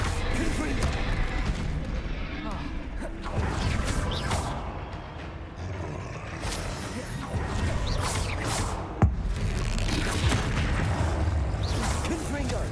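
Confringo spell blasts in Hogwarts Legacy crack and crash repeatedly amid combat whooshes and impacts, with a sharp hit standing out, while a voice talks over the action.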